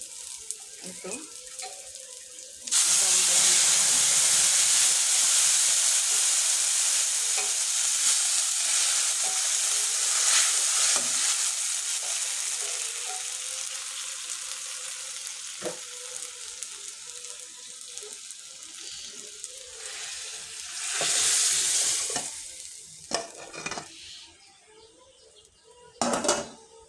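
Dal poured into a hot tempering of fried onion and garlic with the burner switched off, bursting into a loud close sizzle that slowly fades, followed by a few clinks and stirring sounds.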